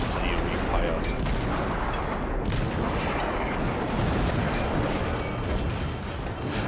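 St. Louis cruiser guns in World of Warships fired by hand in rapid succession, a dense rolling barrage of heavy booms that stays loud and continuous throughout with no pauses.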